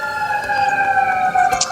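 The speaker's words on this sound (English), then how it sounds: "got a siren." A city emergency vehicle siren wails loudly and close, a steady high tone sliding slightly, alone with no voices.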